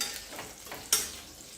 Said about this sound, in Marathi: या वांग्यांना हलकेसे थोडेसे डाग येईपर्यंत आपण असेच परतून घेणार आहोत